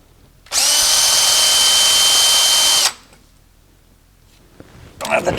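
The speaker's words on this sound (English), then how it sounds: "I don't think this bit is going to drill into this bolt at all" A power drill whines at high speed for about two seconds while trying to drill into a bolt on a 1973 Ford F100's front brakes, stops abruptly, then a short burst of handling noise follows.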